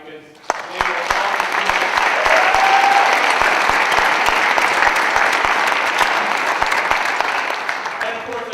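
Audience applause fills a jazz concert hall after the Creston Valley Jazz Bands perform at a secondary school winter concert, steady and loud clapping from a large crowd throughout, with faint voices beneath.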